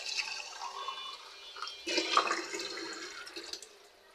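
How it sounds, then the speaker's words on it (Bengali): Water poured onto the dry soil of a potted plant on a balcony, a soft continuous trickle and splash that swells midway, heard close and alone. "গাছটা একটু পানি দিয়ে দেব"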